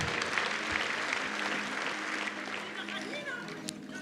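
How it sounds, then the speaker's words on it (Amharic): A church congregation claps in a hall, a dense, sustained wash of applause with voices mixed in underneath. "አጨብጭቡና ቁጭ በሉ።"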